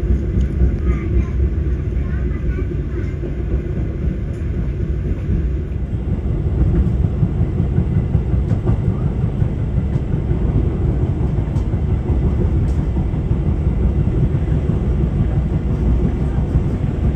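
An economy-class passenger train on an Indonesian railway runs at high speed over rail joints and switches. A loud, continuous rumble fills the cabin, with jolting clatter throughout.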